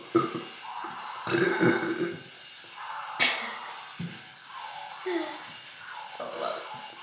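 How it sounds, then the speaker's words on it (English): A person burps repeatedly at close range, several rough, moderately loud belches with short gaps between them. "still burping."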